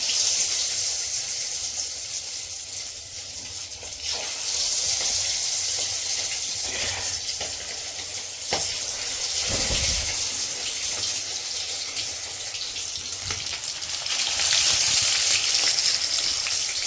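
Cornflour-coated chicken pieces are dropped one by one into hot oil for chilli chicken, giving a steady bright sizzle that swells with fresh bursts and sharp crackles as each piece goes in, close and loud, with no talking.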